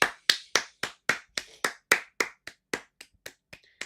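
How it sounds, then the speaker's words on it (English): A pair of hands clapping steadily, about fourteen crisp, close claps at a slightly slowing rhythm, with no talking. "You have to clap for you"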